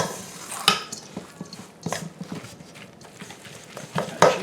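Zucchini fritter batter with egg yolks and seasonings is stirred in a bowl, producing soft irregular scraping and clinking of a utensil against the dish, with a few sharper knocks, close up and fairly quiet.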